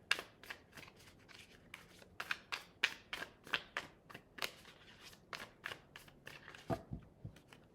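Tarot cards riffled and shuffled by hand, a rapid series of crisp close flicks and snaps repeating steadily throughout, with a soft thump near the end.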